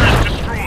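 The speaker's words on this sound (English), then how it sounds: "Oh, that was artillery that hit." An artillery shell strikes in World of Tanks, a single heavy boom and rumble lasting under a second, loud and close.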